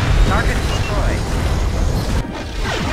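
A Romulan starship exploding in the space combat game Star Trek Legacy, a loud sustained rumbling blast with crackling debris that fades near the end, with a voice speaking over it.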